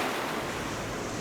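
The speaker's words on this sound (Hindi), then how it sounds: "सर ये मोरजिम बीच है। और मोरजिम बीच गोवा में पड़ता है।" Ocean waves at Morjim Beach in Goa, heard as a steady, loud, broad rush of surf mixed with wind noise on the microphone, continuous and without talking.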